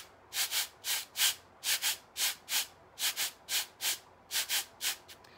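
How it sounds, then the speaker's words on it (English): Two wooden blocks wrapped in sandpaper are rubbed together in a steady rhythm, producing about fifteen loud, close, raspy scraping strokes in short even bursts with brief pauses between them. "you rub them against each other in a rhythmic form just to make some noises"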